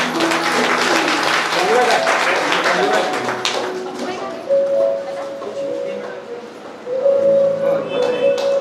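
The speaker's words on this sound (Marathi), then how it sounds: "जोरदार टाळ्या होऊन जाऊ दे" A senior citizens' gathering gives the association secretary a burst of loud hand clapping that fades after a few seconds, while amplified talk and background voices carry over it.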